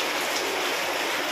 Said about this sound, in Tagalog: Ngayon lang lumakas ang ulan.